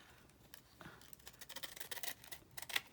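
Scissors snip through the paper pages of a 365-day desktop calendar, a close run of crisp, quick cuts that quicken and grow louder toward the end, with no talking.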